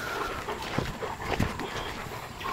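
A dog pants steadily and close by, quick breathy puffs over a rough outdoor background with faint whimpers, no talking.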